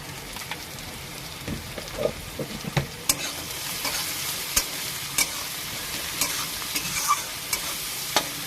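Diced potatoes fry in a pan for chira pulao (flattened rice pilau), with a steady sizzle and repeated stirring clicks and scrapes of a spatula against the pan. The clicks come at an irregular pace, up close, with no talking.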